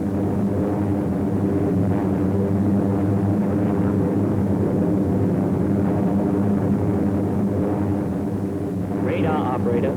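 B-29 Superfortress bombers fly over the Tokyo area near Mount Fuji, their engines making a loud, steady, deep drone that fills the whole stretch, with a voice talking over it.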